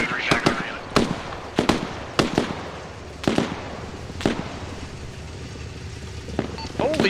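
Grenade blasts and gunfire in the military simulation game Arma Reforger land as a rapid series of sharp, loud bangs at irregular intervals over steady background noise. Faint voices may sit beneath.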